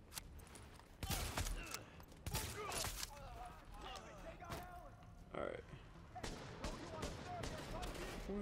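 Scattered gunfire from sentry turrets and military-grade enemies in Tom Clancy's The Division, irregular sharp shots and clanks at moderate loudness mixed with game effects, with someone talking over parts of it.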